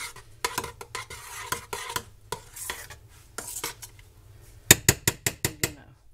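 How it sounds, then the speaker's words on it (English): A metal spoon stirs and scrapes inside a pot of leftover roast chicken and vegetable soup on a stovetop burner, irregular clinks followed by a quick run of sharp taps as the spoon is knocked against the rim. "Stir that up."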